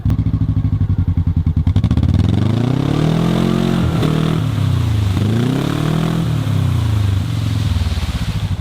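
A Gator 6x6 utility vehicle engine revs loudly and steadily at deer camp as it pulls out of a hole, the pitch rising and falling through repeated surges with some clatter, no talk.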